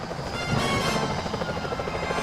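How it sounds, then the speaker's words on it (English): Security helicopters in the Sly Cooper: Thieves in Time video game, a steady loud rotor drone with rhythmic chopping filling the scene throughout, no talk. "Those security choppers are bad news."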